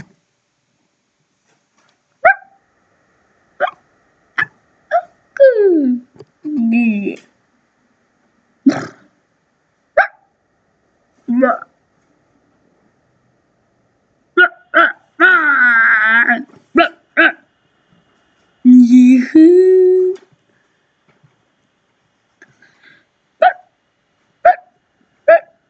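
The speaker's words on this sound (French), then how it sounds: "aujourd'hui le chien de Monsieur François Hollande" Dog barks and whines in short separate yelps and longer whimpering cries, spaced irregularly with quiet gaps between, close and fairly loud, with no talk.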